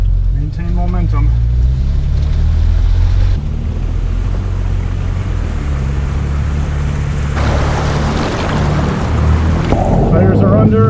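An off-road vehicle pushes through deep water on a rugged trail: a loud, continuous engine roar mixed with rushing, churning water and wind buffeting the microphone, swelling louder near the end.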